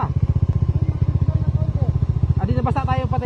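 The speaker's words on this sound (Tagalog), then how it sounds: "mayroon na nga mga motor dito" A motorcycle engine putters close by in a fast, steady rhythm, with a clatter and a voice breaking in near the end.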